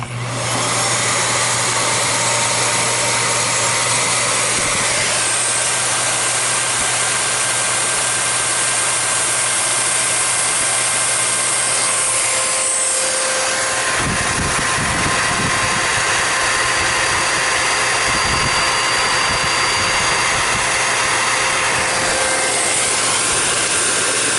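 A Miele stick vacuum, with no HEPA filter, runs steadily for the whole stretch, a loud constant motor whine and airflow hum. Near the middle a few brief knocks and shifts break in as the machine is moved.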